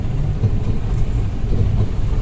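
A Toyota Hiace van with a suspected gearbox fault drones along on a test drive, its low engine and road rumble steady and close throughout, with no talking.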